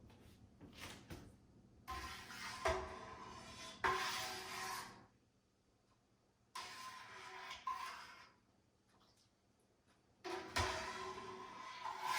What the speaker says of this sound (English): make sure that you really mix it in well